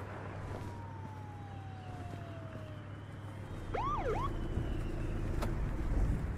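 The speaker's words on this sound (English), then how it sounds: "I hear cops." Police car sirens wail in a snowy crime video game, a faint, distant tone sliding downward before nearer, rapid yelping siren sweeps rise briefly over a low rumbling background.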